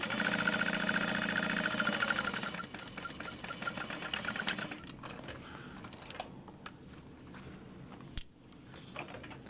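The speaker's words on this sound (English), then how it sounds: "flip that out and top stitch all the way down" A sewing machine top stitches down the length of a fabric bag, running in a fast steady whir for a few seconds, then slowing into shorter bursts of stitching with small handling clicks and pauses.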